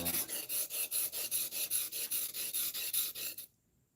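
The blade of a Stanley No. 4 hand plane being sharpened with fast, even back-and-forth rasping strokes, about two per second, close and steady before stopping abruptly.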